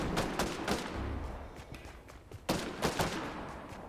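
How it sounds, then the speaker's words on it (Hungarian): Gunfire in the Fortnite video game, a burst of several sharp shots around the start, then a louder volley of cracks after a pause, all at moderate distance with no talk. "Itt van valami lövöldözés."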